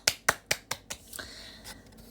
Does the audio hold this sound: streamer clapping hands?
yes